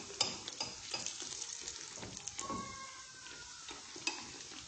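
Dough frying in oil sizzles quietly and steadily, with small scattered pops and a faint clink of utensils as oil is spooned over the top; no voices.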